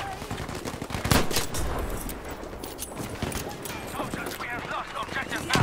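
A Model 27 revolver fires in Battlefield 5 amid a dense, busy battle mix of gunshots and other game sounds, with a voice talking over it.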